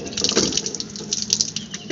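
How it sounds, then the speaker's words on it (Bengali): Tap water gushes steadily into a basin at an outdoor washing spot while someone rinses their face, splashing in uneven bursts close by. "ব্রাশ করা হয়ে গেছে, মুখটা ধুয়ে নিচ্ছি"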